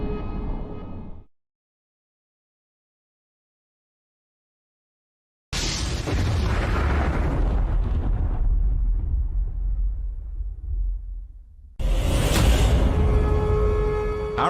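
A Big Bang explosion effect: a short rumble cuts off into silence, then a massive booming blast swells and rolls away into a low fading roar before a second sharp burst hits.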